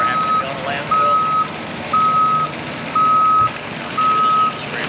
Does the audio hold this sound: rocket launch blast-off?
no